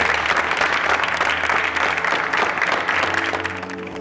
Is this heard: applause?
yes